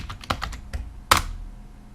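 A few crisp keystrokes on a computer keyboard as a PowerShell command is entered, with several soft taps followed by one sharper, louder key press, all close-up and without speech.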